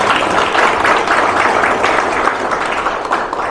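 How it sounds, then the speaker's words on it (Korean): Audience applause for the outgoing president at a federation's presidential inauguration ceremony, a loud, dense, continuous patter of many hands clapping that eases slightly toward the end. "저희 구원 총재님께 한 번 더 박수를 부탁드리겠습니다"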